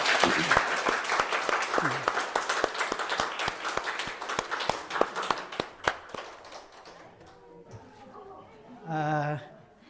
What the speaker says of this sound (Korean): 우리 한번 축하의 박수 한번 쳐드립시다